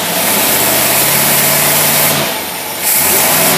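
An engine fitted with a Carter AFB carburetor idles loud and close, holding a steady rumble that dips briefly before settling back to the same even note.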